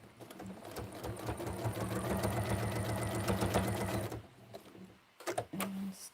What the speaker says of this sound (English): I am going to stitch that little hairy bit down there.